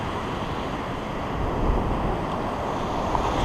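Beach surf with the tide coming in at a whiting and bream fishing spot, a constant loud wash of breaking white water mixed with gusty wind noise on the microphone, with no talk.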